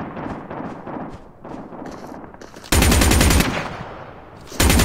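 RazorBack SMG gunfire in the video game Call of Duty Mobile: a run of close, loud shots, then a dense sustained automatic burst, a short lull and another burst at the end, with no talking.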